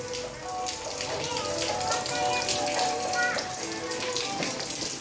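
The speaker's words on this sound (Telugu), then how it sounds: "కంటిన్యూస్గా వర్షం పడుతూనే ఉంది" Steady rain falls in a village during a days-long spell of wet weather, a close continuous patter and drip on surfaces, with faint talk and household sounds underneath.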